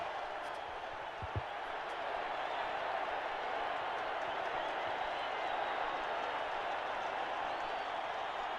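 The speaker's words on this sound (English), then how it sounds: "some lovely work there by Karel du Plessis, and the crowd go mad" Rugby stadium crowd at a South Africa versus New Zealand Cavaliers test match in Pretoria, 1986, roaring and cheering after a try, a dense sustained wall of noise that stays loud throughout.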